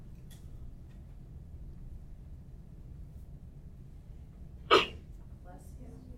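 A single short, sharp sneeze bursts out in a classroom during a math lesson, standing out once against a steady low background hum.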